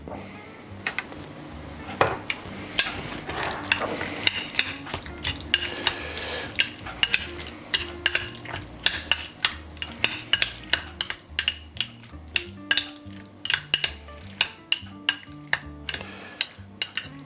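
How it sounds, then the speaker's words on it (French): Sea bream tartare stirred with coconut milk in a bowl, a long run of close, quick clinking utensil taps against the dish over a quiet background, with the rhythm speeding up toward the end. "On mélange comme ceci."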